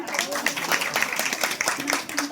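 A small group of people clapping in a short, uneven burst of applause at a family gathering, with voices chattering over it.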